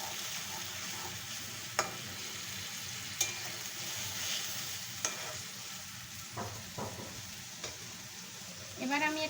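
Mustard hilsa curry stirred in a pan after water is added, a constant bubbling sizzle punctuated by a few sharp spoon taps on the rim, with a brief scraping flurry at the end.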